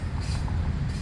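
A freight train rolls past on a railroad track near track maintenance work south of a rail yard. It gives a steady, loud, low rumble of wagons with faint wheel rattle and no other sounds.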